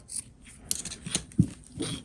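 A few sharp snipping sounds from scissors cutting fabric close by, spaced irregularly with quiet gaps between cuts.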